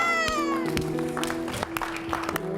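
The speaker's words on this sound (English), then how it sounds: "give her another round of applause" Audience applause at a beauty pageant, clapping mixed with cheering voices and a high whooping, meow-like cry, moderately loud.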